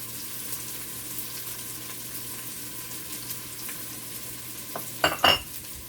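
Onion, garlic and ginger fry in a pan with a steady broadband sizzle throughout, then a few louder clattering stirs near the end.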